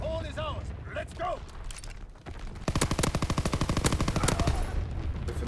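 Rapid PPSh submachine gun fire in a first-person shooter, a dense, loud burst of closely spaced shots running for several seconds after some brief chatter and game sounds.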